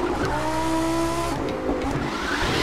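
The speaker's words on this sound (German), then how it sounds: "dass der Wagen hier sehr rutscht" A car slides and drifts with sustained tire squeal over a steady engine drone in the racing video game The Crew 2, the squeal breaking off partway and returning briefly, with no talking.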